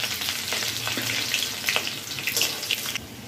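Chopped garlic and green chillies sizzle in hot oil along with dried red chilli and nigella seeds, a steady bright crackle close up with occasional pops and stirring, no talking.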